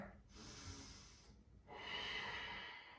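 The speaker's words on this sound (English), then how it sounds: "And keep breathing." Breathing during a home yoga flow: a long, audible breath, a brief pause, then a fuller, airier breath, close and clear with no speech.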